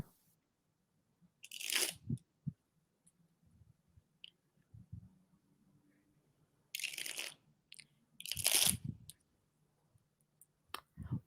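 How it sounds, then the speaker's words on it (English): A tarot card deck is shuffled in a quiet room: a few short, crisp riffling bursts separated by pauses, with softer tapping and handling of the cards in between. "now I'm gonna go ahead shuffle this deck 4 times"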